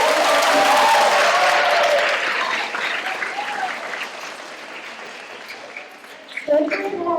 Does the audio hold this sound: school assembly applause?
yes